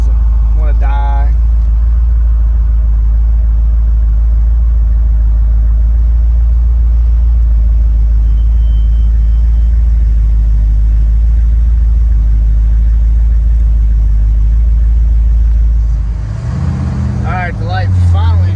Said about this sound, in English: Come to the stoplight here. The car just sits and idles fine.